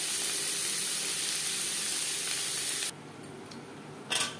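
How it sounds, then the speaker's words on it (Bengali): Onions fry in a pan with green chillies for a fish curry with vegetables, giving a loud continuous close sizzle that suddenly drops to a softer hiss, then a brief burst of spitting. "পেঁয়াজ লালচে করে ভেজে নেব।"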